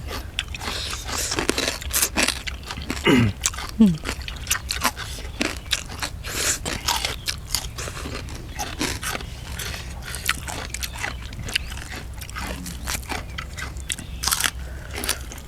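Repeated crisp crunches of biting and chewing crispy fried pork tail, close and sharp, scattered irregularly over a quiet background.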